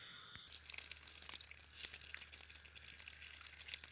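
June plums rinsed under a steady stream of running water from a tap, a constant wash of flowing water with faint drips and splashes over a low hum, close by with no talking.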